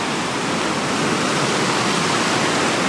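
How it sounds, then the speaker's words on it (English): River water rushes loudly at the Rogue River natural bridge where it is sucked into a cave below, a dense, steady roar that stays close and constant throughout. "Directly below me is where the water is getting sucked into the cave."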